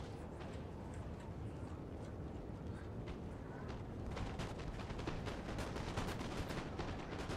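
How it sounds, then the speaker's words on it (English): Massed musket volleys from Napoleon: Total War crackle in irregular bursts, faint and distant at first, then thickening into denser rolling fire toward the end over a low battlefield rumble. "So they're engaging in a shooting match"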